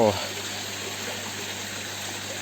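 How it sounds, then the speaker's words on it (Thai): An artificial waterfall pours into a koi pond, a steady, even rush of falling water heard close and continuous throughout, with a brief voice at the very start. "เป็นน้ำตกครับ"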